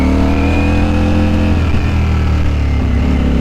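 A Ducati Streetfighter V4S motorcycle engine runs loud and close, holding a steady rev with a brief dip and shift in pitch midway as the quickshifter is used on a new bike.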